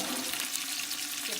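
Braciole meat frying and searing in a pan, a steady dense broadband sizzle that holds close and even throughout with no pauses.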